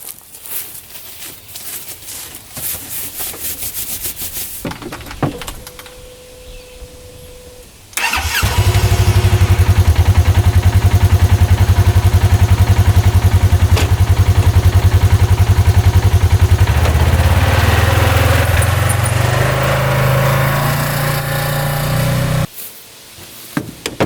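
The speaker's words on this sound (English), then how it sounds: "See if the old Polaris starts up today." An old Polaris dirt bike engine cranks and catches, then roars loudly close by and settles into a steady, throbbing idle for about fifteen seconds before shutting off, with quieter mechanical shuffling before and after.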